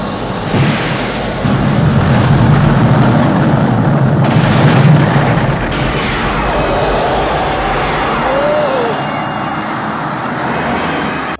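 A loud, sustained explosive roar from inside the Ghostbusters office in the 1984 film, with rumbling debris and a whooshing sweep, gradually settling into a lower, lingering rumble.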